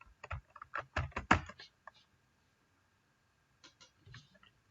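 Typing on a computer keyboard: a quick close burst of key clicks, a pause, then a few more scattered taps in a quiet room.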